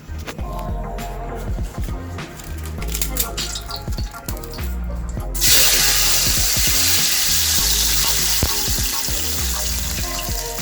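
Bay leaves and cardamom frying in hot oil in a cooking pot, with a loud, steady sizzle that jumps up sharply midway and keeps crackling close by.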